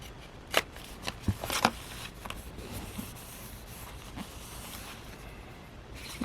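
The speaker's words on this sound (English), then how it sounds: "There was a little extra on here, so I'm just trimming it off." Paper being trimmed off the edge of a junk journal page, a few soft crisp snips and rustles scattered through a quiet room, close and fairly faint.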